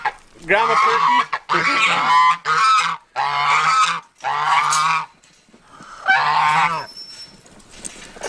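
Turkeys in a farmyard let out a run of loud, close, throaty honking calls, about six in quick succession with brief pauses between them.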